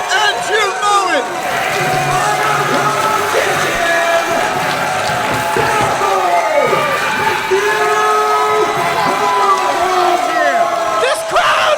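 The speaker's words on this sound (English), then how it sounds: "This crowd is going berserk." A wrestling crowd at an indie match erupts after a disputed title change, loud sustained cheering, whooping and shouting from many voices, with a commentator talking over the roar.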